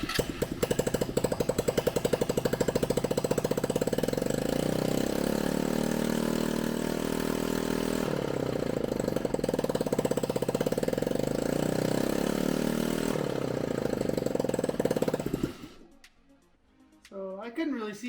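A Honda Ruckus scooter engine idles with no exhaust fitted during rear wheel wobble troubleshooting, a loud rapid rattling putter that runs steadily, then fades near the end.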